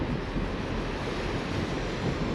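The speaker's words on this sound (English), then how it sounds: "The wind is so strong." Strong wind roars into the microphone during an FPV drone flight, a loud, continuous rumbling buffet heard on its own without speech.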